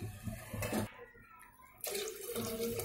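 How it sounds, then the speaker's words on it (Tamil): Water poured from a glass into a pot of soaked seeraga samba rice for Tamil tomato rice, a close splashing gush that stops briefly, then resumes with a second pour. "இப்போ 3 கிளாஸ் தண்ணி ஊத்தி இருக்கேனா"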